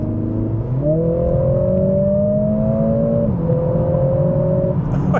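A Mercedes EQE electric car accelerates hard in sport mode, its smooth motor whine rising steadily in pitch with a brief shift midway, loud and close, no engine roar.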